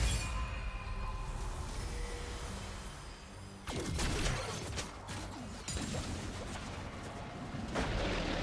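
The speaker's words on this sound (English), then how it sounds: "Blue team's turret has been destroyed." Turret destruction in League of Legends: a heavy crumbling crash with whooshing bursts, loud and layered over continuous game background sound and effects.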